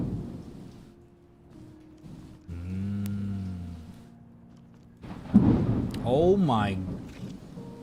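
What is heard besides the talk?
heavy rain with thunder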